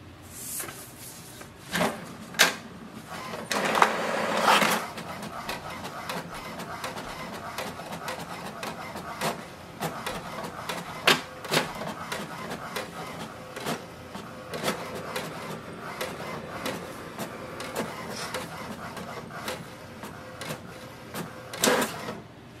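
HP DeskJet 2800e printer running a copy job, a continuous mechanical whir with repeated clicks and clunks as paper feeds through, nearby and without talking.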